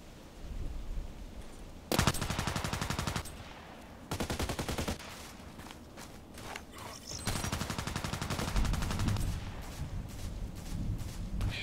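Bursts of video-game gunfire from an HK417 rifle ring out in loud, dense volleys that start and stop abruptly, with echoing rattles and quieter gaps of ambient noise between them.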